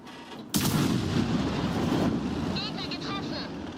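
Artillery fire in World of Tanks, a single loud booming shot that rolls into a long rumbling tail, with brief radio-like chirps near the end.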